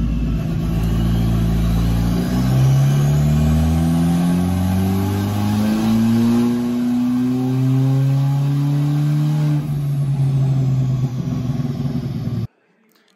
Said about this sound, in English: Engine's now all run in, so we did it on the rollers.